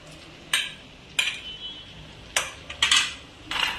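Capsicum and potato being mixed in a pan for pav bhaji: a spoon knocks and scrapes against the metal pan in about six separate clinks, fairly close, with quiet pauses between them.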